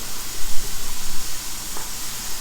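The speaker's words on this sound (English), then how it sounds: "So we are just sauteing these veggies" Vegetables and meat filling for dumplings sautéing in a pan, giving off a steady loud hiss and sizzle that carries on unbroken with no talking.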